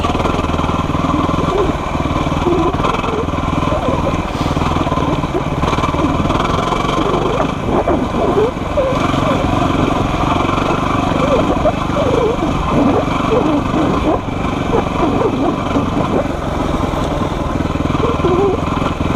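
A small dirt bike rides a rough, rocky trail, its light high-pitched engine droning steadily and close throughout, with rattles and bumps from the terrain.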